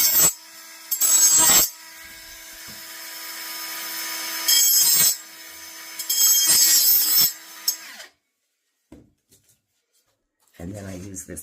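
A saw blade's side grinds excess off bathroom wall tile in several short, loud rasping passes with pauses between, then quiet and brief handling sounds at the end.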